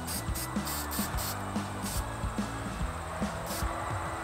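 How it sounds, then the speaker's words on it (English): A spray can applies rust converter to rusty areas of a pickup truck's fenders and tailgate, producing a steady hiss with short repeated bursts over a faint low hum. "And I'm spraying it on the rusty areas."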